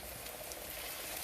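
Onion pieces fry in hot oil while being stirred for a chicken breast dum biryani, a soft, steady crackling sizzle that holds at one level throughout, close and quiet, with no voices.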